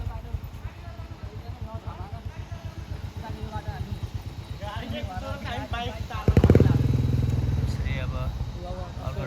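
An Apache motorcycle engine putters rhythmically and grows louder as it draws near on an offroad ride in Jhapa, Nepal, rising into a strong rumble, with voices talking over it.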